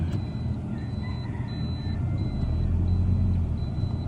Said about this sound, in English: There's the car.